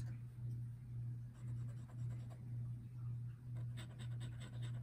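A Cross Townsend fountain pen with a medium nib scratches softly across paper in short repeated strokes, faint and close, over a steady low hum.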